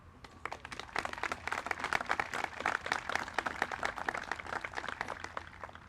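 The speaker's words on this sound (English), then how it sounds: "let's have a round of applause for the 399th Army Band" Crowd applause for the 399th Army Band at a 2023 Memorial Day ceremony: dense, steady clapping from many hands, sustained for several seconds at moderate loudness with no voices over it.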